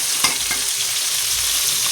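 Rohu fish fries in a pan with a steady, close hiss of sizzling oil, punctuated by a few faint stirring clicks.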